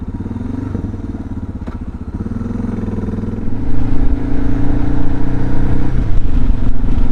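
A single-cylinder motorcycle thumps along while riding, a loud pulsing engine note that rises as the bike accelerates, with wind and road clatter.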